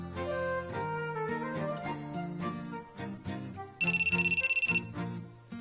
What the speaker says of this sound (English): her phone rings